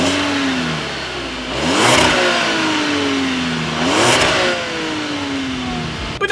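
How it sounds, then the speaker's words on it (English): A nearby 2017 Volkswagen Tiguan SUV engine idling with a deep rumble through a single exhaust with dual tips, revved sharply twice, each rev rising and then settling back to idle. "So as always, here is that exhaust clip."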